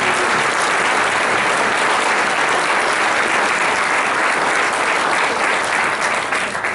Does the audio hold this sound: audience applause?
yes